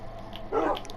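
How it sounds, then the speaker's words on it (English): Dogs in the Minecraft video game make a short, soft yelping sound, a single brief burst lasting a fraction of a second against low background noise. "I have a lot of dogs"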